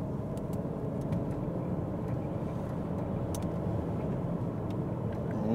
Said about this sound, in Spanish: vamos a tomar alguna curva un poquito rápida